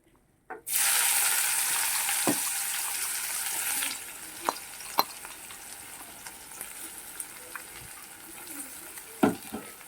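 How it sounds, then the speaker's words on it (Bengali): Chopped onion hits hot oil left from frying katla fish and bursts into a loud, dense sizzle. The sizzle eases after a few seconds, leaving a quieter crackle broken by sharp clicks of stirring. "দিয়ে আমি পেঁয়াজটাকে লাল লাল করে ভেজে নেব"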